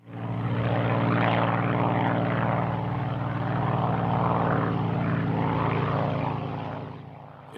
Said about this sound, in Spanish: Pidió probar un avión experimental 110. A las 5:42 de la tarde, Hess despegó rumbo al norte.